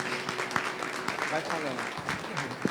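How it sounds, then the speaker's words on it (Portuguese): Congregation clapping at a Sunday evening Baptist church service, a moderate wash of applause with scattered sharper claps and some voices mixed in. "As palmas louvam o Senhor"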